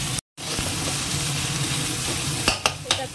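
Ground spice paste with ginger fries in a pan, giving a steady loud sizzle with a brief cut, then a few sharp scraping stirs near the end.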